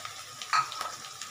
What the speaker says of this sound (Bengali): নারকেলটা একটু ভাজা হবে